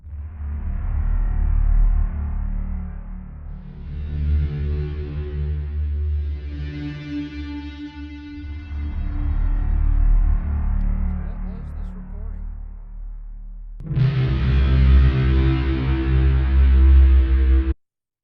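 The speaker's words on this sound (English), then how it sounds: "That sounds like a bass guitar through a bunch of distortion to me." A guitar-pedal drone that sounds like a bass guitar pushed through heavy distortion: a loud, thick, sustained low tone with shifting harmonic layers, then a brighter and denser swell near the end before it cuts off.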